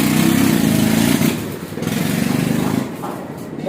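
An old engine runs on a threshing machine, a loud, close mechanical drone with a rapid rhythmic chug that dips briefly partway through, while someone talks over it.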